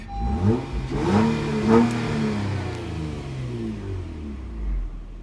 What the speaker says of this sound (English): I'll go ahead and give it a little rev real quick.